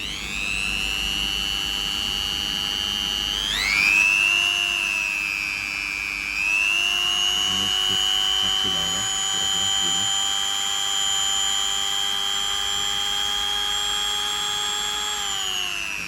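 A Bitec SGM 3240 mini grinder rotary tool whines at high pitch, its tone rising as it speeds up, then holding steady with slight wavering for a long stretch.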